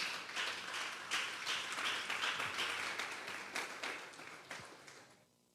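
Congregation applauding loudly during a Sunday church service, a dense wash of many hands clapping for about five seconds, with a few sharp individual claps standing out before it tapers off.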